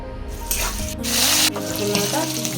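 Oil boiling and frying in a pan for pulihora, a tamarind rice dish, with a steady broadband sizzle that swells in the middle and carries on to the end, close and fairly loud with no talk.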